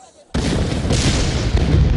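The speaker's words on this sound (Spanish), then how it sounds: "Las explosiones estremecen la ciudad." Wartime explosions shake the city of Hue, Vietnam, at the start of the Tet offensive, a sudden loud blast after a short quiet followed by a sustained, dense roar of rumbling booms and fire.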